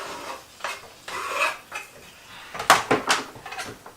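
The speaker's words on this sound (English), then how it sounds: "Give it a stir." A spoon scrapes and clanks around a pan of chicken curry mixture, with a few irregular stirring strokes and metallic knocks, close and moderately loud.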